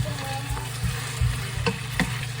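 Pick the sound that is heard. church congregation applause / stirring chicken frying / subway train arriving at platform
stirring chicken frying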